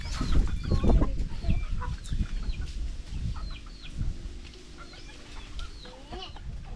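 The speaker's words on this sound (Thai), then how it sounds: "เป็นไก่ป่ากับไก่ดำใช่ไหม" Several jungle fowl and black chickens cluck and chatter in short, overlapping calls, with low rumbling thumps and background noise underneath.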